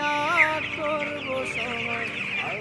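Broiler chickens cluck and call in a heated poultry shed on a cold winter day, with overlapping, continuous, close-up chatter from the flock.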